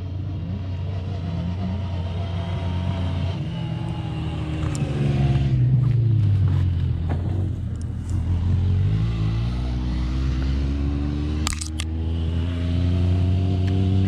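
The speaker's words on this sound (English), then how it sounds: "I'm gonna take it for the first test drive out here at Sand Hollow." A Kawasaki KRX 1000 side-by-side runs on a test drive at Sand Hollow, its engine droning loud and steady with rising and falling revs and rumbling through the ride, with no talk.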